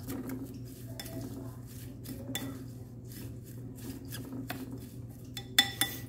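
Minced meat filling being mixed with black pepper and salt: soft, steady rubbing and light clinks of utensils against a dish, fairly quiet throughout, with a couple of sharper knocks near the end.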